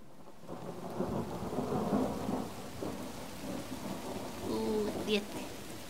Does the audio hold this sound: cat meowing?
no